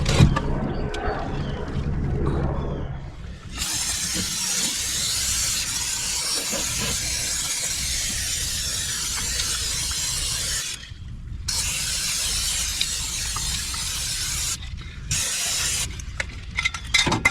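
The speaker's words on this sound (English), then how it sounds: "Now we will spray the base of this all down with our rust proofer and our Planet Safe." Aerosol rust proofer sprays onto the base of a car battery in a steady, close, loud hiss that runs for long stretches, broken by a few short pauses between passes.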